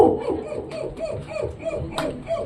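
A mimicry artist imitates a Bangalore country dog, voicing a quick series of rhythmic barks and yips close to the microphone.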